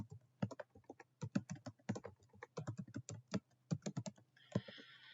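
A vendor name is typed on a computer keyboard in quick irregular bursts of close, crisp key clicks with short pauses, then a brief soft rustle at the end.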